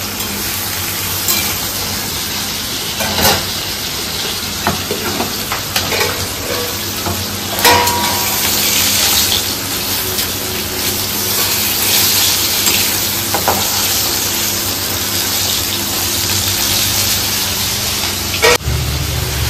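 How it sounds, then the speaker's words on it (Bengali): Potato, ridge gourd and eggplant fry in a pan with a steady loud sizzle, broken by occasional scrapes and clinks of a spatula stirring against the metal. "এখানে আলু, ঝিঙে আর বেগুন ভেজে নিচ্ছে"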